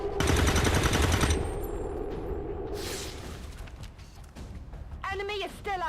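Automatic gunfire in XCOM 2 hammers out as a loud, rapid burst for about a second, then gives way to quieter clattering and scattered impacts, ending with a brief electronic warble.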